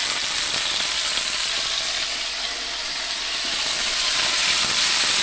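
British beef Denver steak frying in a pan, a loud, steady, close sizzle and hiss that holds without a break from start to finish.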